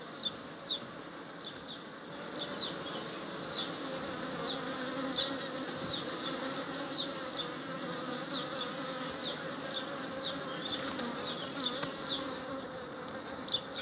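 Honeybees buzzing at the entrance of a Kenyan top-bar hive, a steady close swarm drone with individual bees zipping past, continuous and moderately quiet throughout with no talk.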